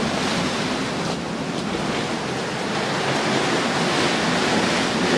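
Rough sea waves wash continuously around a heeling sailing yacht under reefed sails, mixed with steady wind noise, loud and close with no talk.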